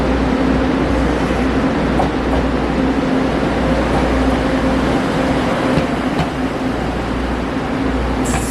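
A train on the single-track Neiwan branch line in the mountains rumbles steadily nearby, a continuous low mechanical drone with faint clicks and squeaks over the wheels.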